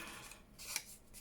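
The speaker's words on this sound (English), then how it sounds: "So I shall just cut that down a little bit." Scissors snip paper for a craft folder in a few quick, quiet cuts. A short crisp click sounds near the middle against a near-silent room.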